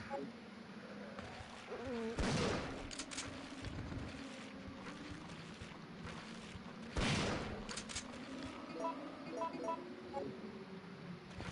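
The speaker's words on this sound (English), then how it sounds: "Alright, let's use a shotgun." Two heavy shotgun blasts boom out in Resident Evil 3: Nemesis, several seconds apart, over a low game ambience, with a voice talking at times.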